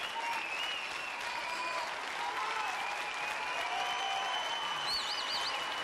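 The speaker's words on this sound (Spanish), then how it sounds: "el aplauso para vosotros" A television studio audience giving sustained applause on a Spanish game show, steady continuous clapping with a faint musical tone running underneath.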